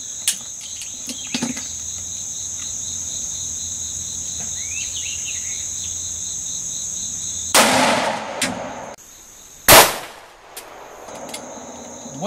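A 10mm pistol loaded with Buffalo Bore ammunition fires at a 3A ballistic vest outdoors, two sharp loud shots ringing out over a steady background of insects chirping.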